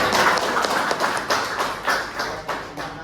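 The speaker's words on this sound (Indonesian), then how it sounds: "Ya, tepuk tangan." A few people applaud after a class session, sharp separate handclaps in a loose, uneven rhythm rather than a full ovation, fairly close and clear.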